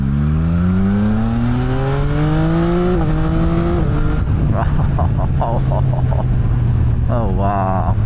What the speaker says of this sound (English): the exhaust sounds sublime